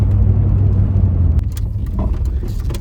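A Ford Fiesta RS1800 without power steering makes a sharp, slow U-turn, its engine giving a close, low, steady rumble, followed by a few faint clicks and knocks as the car turns.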